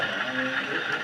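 A model railroad train pulls away on a layout, giving a brief, steady mechanical rumble and rattle at moderate level with no talking over it.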